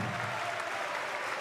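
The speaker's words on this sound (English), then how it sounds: "Vitali hears the applause as he goes out" Sustained arena applause from a basketball crowd at a Champions League game between Dinamo Sassari and San Pablo Burgos, dense and steady for the whole moment as a player heads to the bench.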